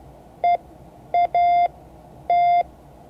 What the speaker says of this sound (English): This is actually something called the Farnsworth method of teaching Morse code.